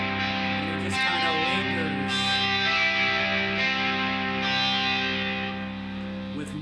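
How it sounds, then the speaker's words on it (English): 1991 Rickenbacker electric guitar played through distortion, a loud sustained chord ringing with smeared effects and lingering feedback overtones, with faint pick attacks and a gradual slight fade near the end. "You get some nice distortion and feedback there at the end."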